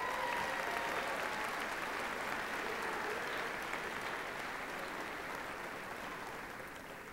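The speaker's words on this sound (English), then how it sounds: "a round of applause" Applause fills a hall at Colorado Mesa University's December commencement, a broad steady roar of many hands that holds evenly and then slowly tapers toward the end.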